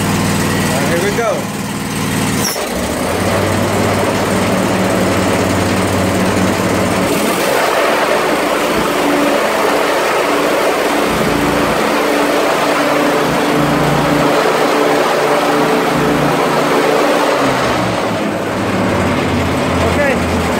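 Dixie Chopper Zee 2 riding mower engine running steadily and loud close by, choke on with the brake set, its low drone shifting pitch a few times, with a person talking over it.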